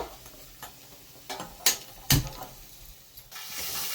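Masala paste sautéing in oil for rohu fish curry, a low background sizzle broken by several sharp spoon scrapes and taps against the pan, close and intermittent, with no one speaking.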